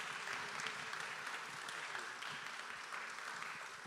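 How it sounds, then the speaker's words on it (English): Steady applause from an audience thanking a panel, a dense continuous wash of many hands clapping at even loudness throughout, with no break. "Please give our panelists a round of applause."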